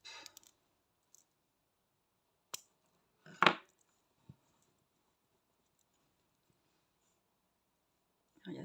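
Scissors snipping crochet yarn on a crocheted octopus, a few quiet isolated snips and clicks in near silence, with one louder cut in the middle.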